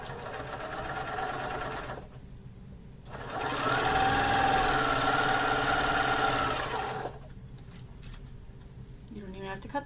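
A sewing machine stitches quarter-inch seams through quilt fabric pieces for half-square triangles, running in close, steady whirring bursts that stop and restart, with a louder sustained run in the middle.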